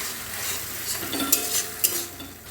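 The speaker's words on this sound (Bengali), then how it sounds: "পেঁয়াজ বাটাটা নেড়ে নেবো যতক্ষণ না এর একটু যে পরিমাণ গন্ধটা যেন কেটে যায়, আর পেঁয়াজটা যেন ভালোভাবে ভাজা হয়ে যায়" Onion paste stirred and fried in a pan for chicken rezala, a close steady sizzle with scraping strokes of a spoon and two sharp utensil clicks against the pan.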